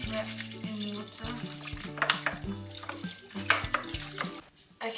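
Tap water runs into a saucepan to cover sea moss, a close, continuous splashing pour with faint clatter of the pan. A tonal hum sits underneath throughout, and the pour cuts off near the end.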